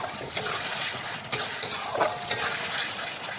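Potatoes and spices cooking in a pan for a fish curry, a steady close sizzle with a few sharp spatula clinks and scrapes as the mixture is stirred.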